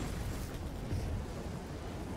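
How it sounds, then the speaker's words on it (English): A pillar of fire erupts in Warhammer 40k: Inquisitor - Martyr, giving off a dense, roaring rumble that holds steady and fills the whole stretch. "Enjoy the pillar of fire"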